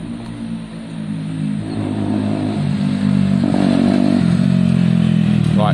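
A Zontes motorcycle engine runs steadily without cutting out, a close, loud, rumbling drone that swells a little partway through and stays even to the end.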